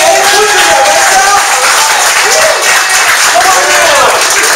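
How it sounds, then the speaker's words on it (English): An audience claps and cheers to welcome a speaker at a networking meeting in San Jose, making loud, dense, continuous applause with whoops rising over it. "please rise to your feet. And give a big warm cheer"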